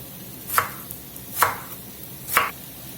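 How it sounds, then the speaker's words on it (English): A knife chops through vegetables for a turkey sausage cabbage soup with three separate crisp strokes, each landing on the cutting board about a second apart. The chopping is close and clear, and nobody speaks. "I usually cut mine about like that right there, 1/4 inch, a little bit"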